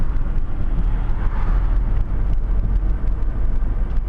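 A car cruising steadily at 40 km/h on a road during a driving lesson, continuous low rumble of engine and tyre noise with some wind buffeting, no talking.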